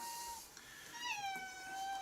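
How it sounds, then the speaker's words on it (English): A cat meows in a workshop, a single drawn-out rising and falling meow over faint background hiss, fairly quiet and with nobody talking. "And now the cat's come in."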